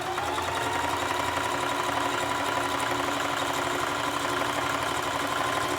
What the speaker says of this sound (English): I'm just going to go ahead and start with the straight stitch, 1/4 inch seam allowance